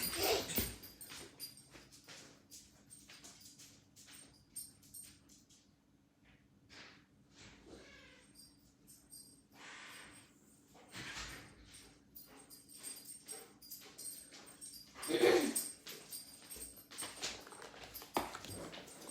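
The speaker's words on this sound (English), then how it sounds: "My dog's about to tear the door down." A dog behind a door whimpers and snorts in soft, intermittent bursts over a long stretch, with scratching and knocking noises, faint and somewhat distant, and no talk.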